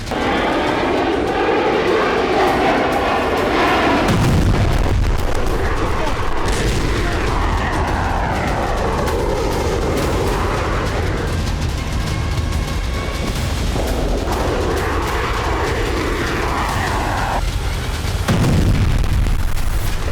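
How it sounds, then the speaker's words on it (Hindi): Israeli F-35I Adir fighter jet and bombs striking Tehran: a loud, continuous jet roar with heavy low booms and rumbling blasts throughout, dense and unbroken. "इजराइल के F-35I अदिर फाइटर जेट से बरसाए गए बम तेहरान में खुली तबाही मचा रहे हैं।"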